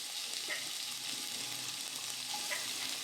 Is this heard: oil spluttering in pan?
yes